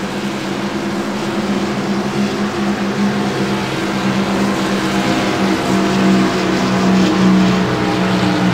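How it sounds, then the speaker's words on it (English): A field of about 25 ANZCAR Thunder race cars forming up behind the pace car at Chicagoland, their engines making a loud, steady, dense rumble with a gentle rise midway and no talk over it. "And the pace car leads the grid away."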